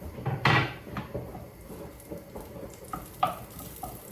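Onion, garlic and ginger dropped into a hot pan, with a sharp burst of sizzling followed by steady frying crackle and a few scraping stirs and clunks, close by.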